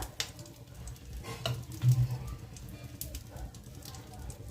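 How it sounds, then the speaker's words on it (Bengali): Two bay leaves sizzle in leftover fish-frying oil in a pan, a soft, steady crackle heard under a person talking. "বেশ কিছুটা তেল রয়েছে, মাছ ভাজার তেল। ওই তেলেতেই 2 পিস তেজপাতা,"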